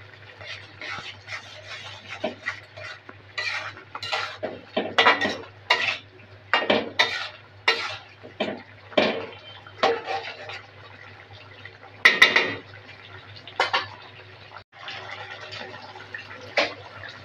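A spoon stirs fried onion, chili and coriander leaves in a metal pan, giving a series of loud, irregular scraping clanks and clinks over a quiet background.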